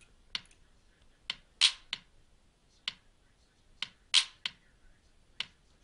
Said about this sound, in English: now I would add in a clap where it sounds like it would fit in, or a snap